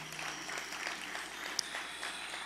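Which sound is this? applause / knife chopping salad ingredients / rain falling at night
applause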